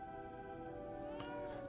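A cat meows in the video game Lies of P, one faint drawn-out call over a steady droning music bed, with no talking.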